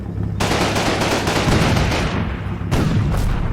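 High-explosive rounds pound in Combat Mission Rome to Victory, heavy booming bursts with rumbling aftershocks, one blast starting early and a second sharp burst near the end, loud and close with no talk.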